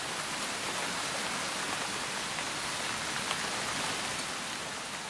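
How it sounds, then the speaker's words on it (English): Rain falls steadily on a hot granite mountaintop, a dense even hiss of drops that holds constant throughout with no other sounds. "When the first rain strikes the hot granite, it's driven off as steam."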